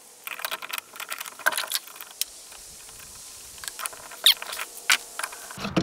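Bit changed on an old wood router while sheathing cabin walls: scattered close metallic clicks, small jangles and squeaks of tool and bit being handled, in short irregular bursts with quiet gaps.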